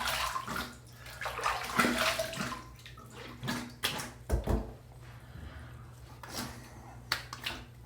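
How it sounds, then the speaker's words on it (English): Water runs and splashes in a basin as a razor is rinsed after a shave, with uneven bursts of splashing, clattering handling noises and a low background hum. "Okay, let's rinse again."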